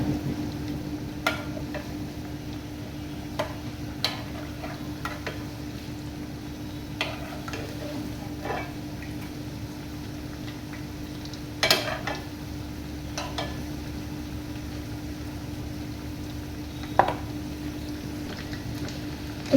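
Potato pakoras fry slowly in oil with a low, even sizzle under scattered sharp clicks and spatters, steady and close.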